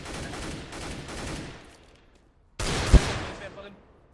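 Bursts of rapid automatic gunfire in the video game Counter-Strike: Global Offensive on a custom co-op heist map, one volley fading out, a pause, then a louder burst with a sharp single shot.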